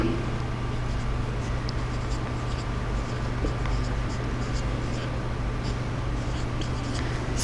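Pen writing a nine times table by hand on paper, continuous close scratching strokes, steady and unbroken with no talk.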